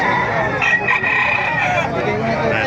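Rooster crowing amid the bustle of a chicken market in Bocaue, Bulacan, a sustained loud crow over constant crowd noise and nearby chatter.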